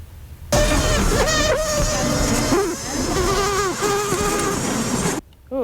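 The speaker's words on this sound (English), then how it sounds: "the bees made frantic, high-pitched warning sounds similar to panic screams when their nest was invaded by the giant hornets" Asian honeybees under attack by giant hornets sound frantic, high-pitched warning pipes and wavering screams over a dense buzzing roar that cuts off abruptly.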